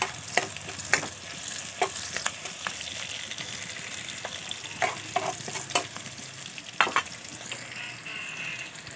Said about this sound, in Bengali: এবার এর মধ্যে আমি দিয়ে দেবো 2 বড় সাইজের পেঁয়াজ কোচানো। পেঁয়াজ ভাজার সময় সামান্য অল্প একটু চিনি দেবো